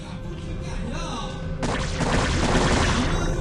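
In a StarCraft match, a Reaver's scarab shot explodes with a sudden dull crashing burst that follows lighter game noise, then fades into a busy rumbling wash.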